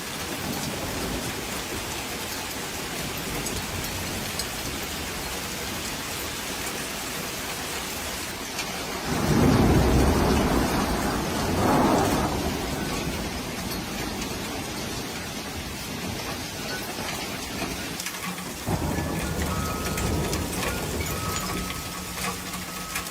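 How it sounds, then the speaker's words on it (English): Freak hailstorm in a French town: a continuous dense roar of hail battering streets and surfaces, swelling louder for a few seconds midway with low rumbling, then settling back into a steady drumming clatter. "A freak French hailstorm buried the streets instantly, making it look like a winter wonderland."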